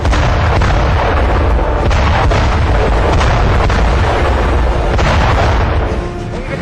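Artillery and missile fire during a large Chinese military exercise in Tibet: a loud, dense, continuous barrage of booms and blasts that overlap throughout with no pauses and no voices.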